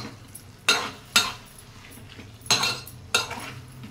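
A spoon scrapes and clatters against a pot while curry is stirred and mixed, giving four distinct, fairly loud strokes at an uneven pace with a low steady hum beneath and no voices.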